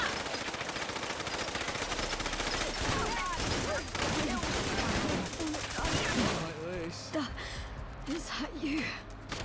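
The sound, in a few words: gunfire in video game Fallout: London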